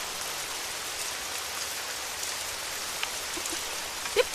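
Steady rain falls, a dense even patter on surfaces with a few louder drips near the end, heard alone without talking.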